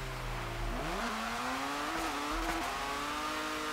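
A drift car in a racing video game has its engine note held steady, then jump and climb sharply as the clutch is kicked, with tire squeal under the revving, loud and continuous.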